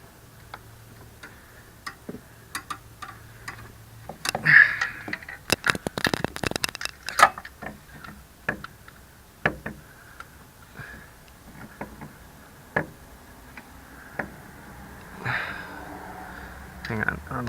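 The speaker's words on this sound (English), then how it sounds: "So I'm just gonna see if I can get my socket wrench in there." Socket wrench clicking and ratcheting on a spark plug of a 2013 Camaro's LS3 engine, a burst of rapid close ticks in the middle amid scattered handling knocks, with quiet talk around it.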